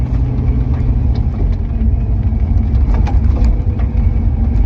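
Volvo 240 fitted with a V8, running at steady idle close by, with a dense low rumble throughout and faint mechanical ticks on top.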